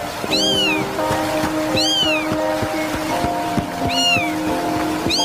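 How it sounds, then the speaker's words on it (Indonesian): A small white kitten, wet from rain, meows repeatedly in clear, high, wavering cries at a steady pace, close and loud over a rhythmic clicking and humming background. "Kasihan anak kucing itu."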